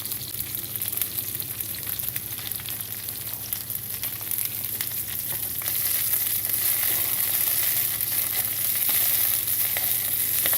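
Butter sizzles in a pan with potatoes, carrots, asparagus and oregano, giving a loud, steady hiss that swells a little halfway through, with no voices.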